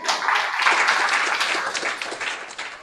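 An indoor audience breaks into a short round of applause, many hands clapping together loudly before it fades within a few seconds.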